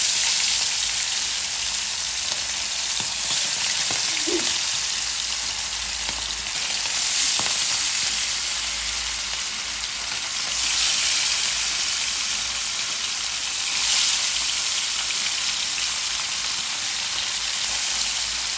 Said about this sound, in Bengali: তেল দিয়ে দিলাম, তেলটা গরম হতে থাক। দিয়ে দিলাম মাছগুলো।